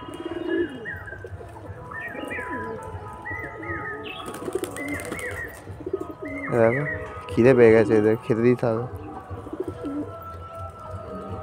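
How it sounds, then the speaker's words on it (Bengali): Pigeons coo in soft, repeated rolling calls close by, with a louder burst of cooing partway through, while a person talks over the birds. "দেখো পায়রাটা কেমন ডাকছে"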